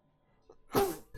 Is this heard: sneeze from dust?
yes